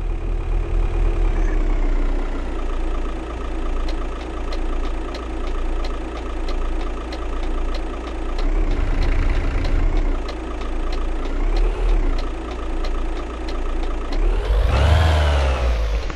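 A small manual-clutch service van's engine runs steadily throughout, rumbling with periodic rises in pitch as it shifts and accelerates, ending with a louder rev.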